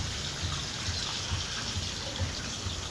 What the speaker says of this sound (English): I put on the water, it will get here. The water is going to flow.